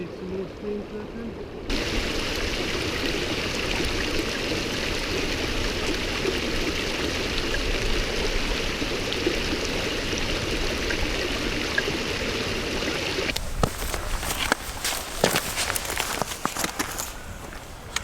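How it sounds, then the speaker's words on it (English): Meltwater mountain stream in the Alps rushing steadily and continuously at close range, a broad wash of flowing water, with rustling handling noise and knocks near the end. "There's going to be some more streams there then."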